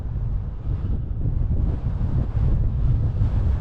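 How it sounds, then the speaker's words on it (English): Strong wind blasts across the coast at Levenwick, Shetland, a continuous low roaring buffet against the microphone with surf-like rumble beneath, loud and unbroken throughout. "oh, that wind would just chill you"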